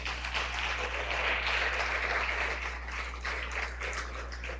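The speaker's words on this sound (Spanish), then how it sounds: "Dele un aplauso al Señor." A church congregation applauding during a Spanish-language worship service, a steady wash of clapping that holds at moderate loudness throughout over a low hum, with no voices standing out.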